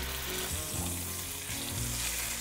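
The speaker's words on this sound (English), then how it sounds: "we're gonna saute the tuna rapidly, 2 minutes per side" Tuna sauteing rapidly in very hot olive oil, a dense, continuous sizzle that holds steady and close throughout, with no voices.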